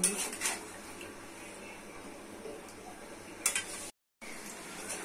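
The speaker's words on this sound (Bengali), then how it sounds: "কষে কষে রান্না করে নিতে হবে।" Spatula scraping and clinking against a pan while spices, chillies and vegetables are stir-fried for a Bengali taro, eggplant, potato, long bean and dried shrimp dish, a few faint scattered taps over a quiet low hiss.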